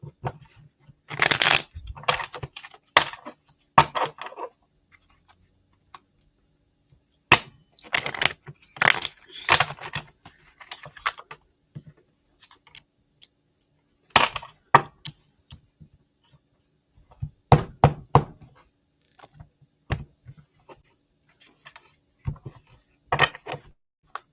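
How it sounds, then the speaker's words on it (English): Tarot cards being shuffled by hand up close, crisp riffling bursts that start and stop in irregular spells separated by short silences, with no talking. "I want to give them a good shuffle"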